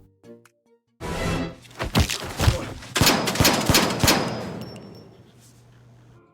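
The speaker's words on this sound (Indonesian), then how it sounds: "terjadilah aksi tembak-tembakan yang sangat sengit" Gangster shootout in a film scene, a rapid burst of loud gunshots in quick succession with sharp cracks and impacts, fading into echoing tail afterward.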